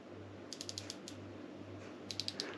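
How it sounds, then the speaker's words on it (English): Small ratchet on a Penn Fathom II casting reel clicks in quick short bursts, two clusters of crisp close ticks separated by a pause, over a low steady hum. "It's got a little ratchet in that."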